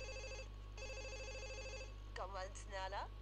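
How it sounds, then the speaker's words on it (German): Telephone ringing in the video game The Sims: two bursts of a bright electronic ring with a pause between them, steady over a constant low hum, followed by voices talking. "Oh, das Telefon klingelt."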